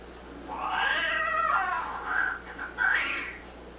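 A female cat lets out a loud, drawn-out caterwauling cry after mating, one long wavering wail that rises, dips and breaks into a second howl, close and unaccompanied by talk.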